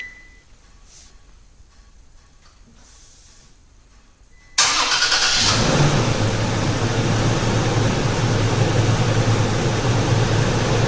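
A 2016–2023 Toyota Tacoma engine remote started by a triple lock press: after several seconds of near silence the starter cranks and the engine catches abruptly, then settles into a loud, steady idle heard close by.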